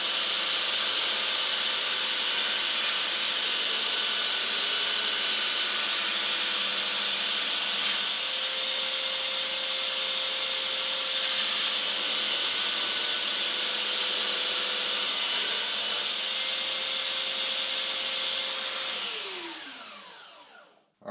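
A NedFoss 13-inch hatchet edge is ground on an 80 grit belt sander, a loud steady whine and grinding hiss that holds for about twenty seconds, then winds down as the motor stops.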